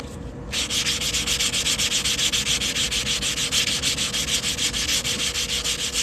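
Coin ring being polished, a steady, close abrasive rubbing with fast regular pulses running continuously after a brief quieter start, with no talking.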